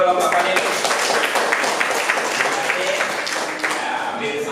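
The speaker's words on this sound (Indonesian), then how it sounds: "tepuk tangan untuk kelompok panelis." A classroom group claps for a panel of student presenters during a teacher-training session, brisk overlapping hand claps of moderate loudness with voices talking over them.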